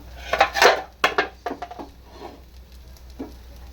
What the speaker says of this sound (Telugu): ఇప్పుడైతే మూత అయితే తీసేస్తున్నాను